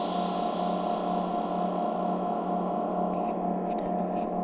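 A dark Airwindows Dual Matrix Reverb with the high frequencies removed, producing a dense, steady, muffled wash of fully reverberant sound that holds at an even level throughout.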